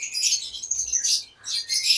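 Green-series split-ino lovebirds in a breeding box at a lovebird farm in Khulna give shrill, high chirps in quick bursts with a brief pause, close and loud.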